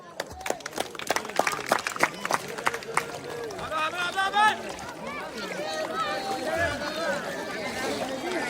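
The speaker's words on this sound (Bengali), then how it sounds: "সবাই একটা তালি" A village crowd on a riverbank claps for a tube-crossing race. Quick scattered claps come first, then they blend into a steady murmur of cheering and talking voices that carries on underneath.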